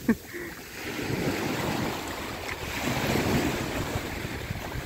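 Sea waves wash onto Port Fouad beach in Port Said, Egypt: a steady, broad surf roar mixed with wind buffeting the microphone, swelling slightly toward the end with no talk over it.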